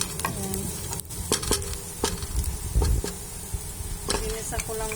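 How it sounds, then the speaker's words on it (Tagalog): Onions and raisins sauté in a pan for Bucari rice, giving a steady close sizzle broken by several sharp clinks and scrapes from a stirring utensil. "Ginisa ko lang muna yung sibuyas, saka yung raisin."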